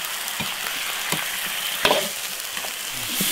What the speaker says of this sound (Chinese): 先把鹅炒香，十分煸干。猪脚下锅一起炒